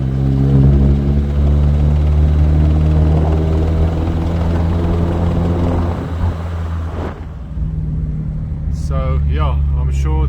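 An Audi A4 B7 with the 1.8T engine runs with a persistent abnormal noise, a loud steady droning hum heard close up, with a brief clunk near the end and a few spoken words over it.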